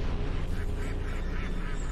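Rubber ducks quack in the horror game Anatidaephobia, a few soft, repeated quacks spread across a steady, noisy game background, with no talking.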